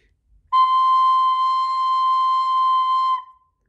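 Played alone on a wind instrument, a single high C is sustained evenly for close to three seconds, loud and pure-toned, then released.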